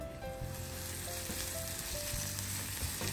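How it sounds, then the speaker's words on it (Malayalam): Sliced medium onions sauté in a hot pan with a dense, even frying sizzle heard close up from start to end, with faint tonal background sound. "അതിന് ശേഷം ഒരു 3 പീസ് മീഡിയം സൈസുള്ള സവാള അതിലേക്കൊന്ന് കട്ട് ചെയ്ത് ഇട്ട് കൊടുക്കുന്നുണ്ട്"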